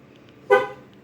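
A Dodge Challenger sounds one short horn chirp as its doors lock, a single brief toot rising out of quiet background and fading quickly.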